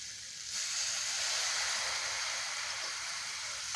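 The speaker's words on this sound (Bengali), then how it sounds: "আর এখন এটা অল্প একটু জল দেব।" Water splashed into a sizzling spiced chicken patty filling in a pan on a gas stove, setting off a loud, steady hiss that swells and then holds, close up with no talking.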